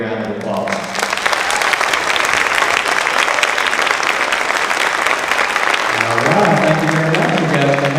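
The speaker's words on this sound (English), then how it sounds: "Please help me congratulate all of them with a great big round of applause." A school foundation's education celebration audience applauds finalists in a big hall, with dense, sustained clapping that carries on for several seconds before a voice returns near the end.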